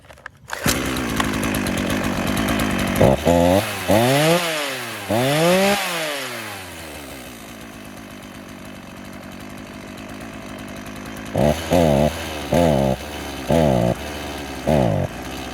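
A chainsaw engine idles loudly during carburetor adjustment, then revs in rising and falling surges, settles to a long idle, and finishes with a run of short, sharp throttle blips, all close up with no talk.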